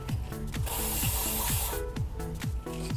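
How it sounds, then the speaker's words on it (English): Dry lube aerosol hisses in one steady burst onto the threads of a 1995 Ford Bronco 4x4 radius arm part, lasting about a second, close and loud over a repeating low mechanical chirping in the background. "Spraying the threads of this guy real quick."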